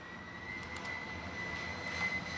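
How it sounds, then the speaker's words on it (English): Airplane passing overhead in a video game match, a steady faint jet-engine drone with a sustained whine, quiet and unbroken with no voices. "My airplanes are so annoying."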